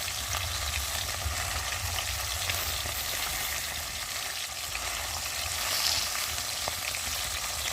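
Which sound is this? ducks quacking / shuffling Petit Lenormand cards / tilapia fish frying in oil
tilapia fish frying in oil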